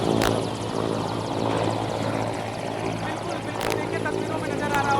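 A helicopter at Narayanpur, Chhattisgarh gives a loud, steady, continuous rotor and engine drone close by, with sharp thumps near the start and middle.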